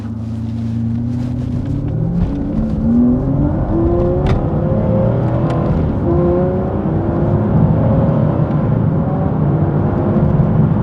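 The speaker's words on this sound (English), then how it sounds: "Let's go for a spin and appraise the auto shift manual on the V12 Vantage S." An Aston Martin V12 Vantage S with a seven-speed automated manual gearbox pulls away and accelerates, its V12 engine rising in pitch through several gear changes, heard loudly and steadily from inside the car.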